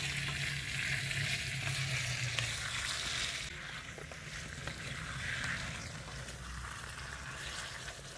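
Spice masala for chicken curry sizzling steadily in a pan on a gas stove, a continuous close frying hiss with occasional stirring, no talking.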